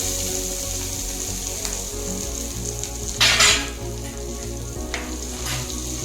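Mustard seeds hitting hot oil for a tomato chutney, crackling in a steady close-up sizzle throughout, with a sharper burst of spattering midway and no talking.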